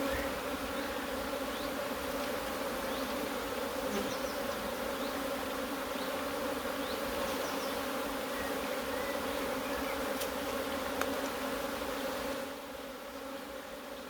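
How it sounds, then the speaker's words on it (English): Honeybees buzzing around an open hive being moved to 14 x 12 frames, a dense continuous drone of many insects close by, steady throughout and thinning slightly near the end. "look, they're just absolutely crazy bees."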